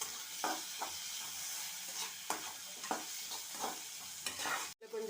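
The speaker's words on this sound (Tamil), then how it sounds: "இப்போ தக்காளியும் கொட்டி நல்லா வதக்கலாம்." Tomatoes tossed into hot oil with onions and ginger-garlic paste sizzle steadily while a spatula stirs them, leaving quiet scraping strokes at an irregular rhythm, close and soft.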